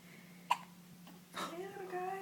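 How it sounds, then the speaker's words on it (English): A baby gives one sharp hiccup close to the microphone. An adult then starts talking in a soft voice over a steady low hum. "Mr. Man's got the hiccups."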